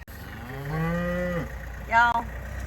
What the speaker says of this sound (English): These cows are all following me around.